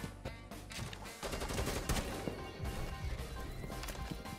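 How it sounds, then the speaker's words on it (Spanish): A dense burst of rapid gunfire and explosive cracks in Rainbow Six fills the mix, loud and continuous, with faint game-like noise and no clear speech. "te viene un pavo de estos Te dispara tres tiros"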